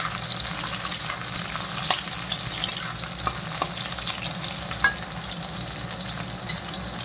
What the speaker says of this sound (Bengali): এই তরি পাতাও একটু ভেজে নিই হালকা করে